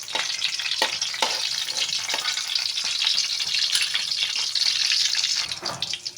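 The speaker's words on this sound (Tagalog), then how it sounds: "nagpainit na tayo ng mantika sa ating munting kawali. Lalagyan na natin ng sibuyas." Onions hit hot oil in a small frying pan, giving a steady, dense sizzle with faint crackles and a few scraping stirs throughout, close and fairly loud, with no talking.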